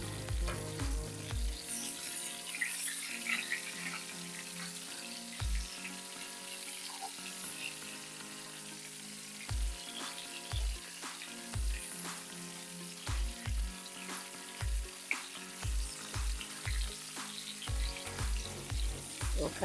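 Chicken pieces sear in a hot frying pan while being browned for braised chicken, giving a steady, soft sizzle. Background music with a thumping low beat plays over the sizzle, and there is no talking.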